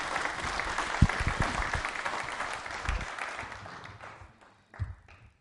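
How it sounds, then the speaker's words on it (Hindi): A quiz show audience on the Indian legal system claps loudly, dense applause that thins out and fades toward the end, followed by a short burst of a few claps. "तालियां बजाइए सब जोरों से आपके लिए."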